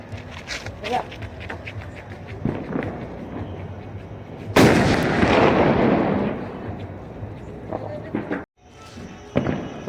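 A firecracker bomb goes off during a Ram shobha yatra procession in Bhavnagar: after scattered crackles and voices, one sharp, loud blast erupts and rumbles away over several seconds, then brief quiet and more pops.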